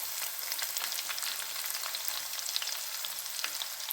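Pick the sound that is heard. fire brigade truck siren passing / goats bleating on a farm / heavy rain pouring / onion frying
onion frying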